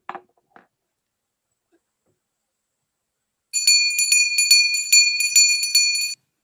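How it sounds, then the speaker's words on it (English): After two faint taps and a long silence, a bright bell rings rapidly and repeatedly for a few seconds, clear and close, then stops. "You may also ring the bell."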